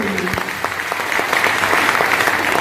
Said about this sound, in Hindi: एक जबरदस्त ताली होना चाहिए सारे लोगों के।